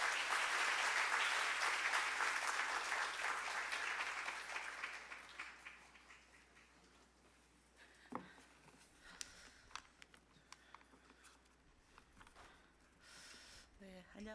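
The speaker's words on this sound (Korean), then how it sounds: "박수로 환영하겠습니다." Church congregation applauding to welcome a visiting missionary before an afternoon worship sermon: loud sustained clapping for about five seconds that gradually thins and fades, leaving scattered claps and room noise.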